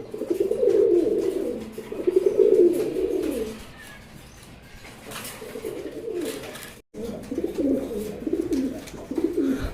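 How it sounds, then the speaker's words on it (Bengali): A pair of giribaz pigeons, a male and a female on top of a cage, coo in long, throaty rolling bursts, close and fairly loud, with a short lull partway through. "এখানে একজোড়া গিরিবাস কবুতর দেখতে পাচ্ছেন"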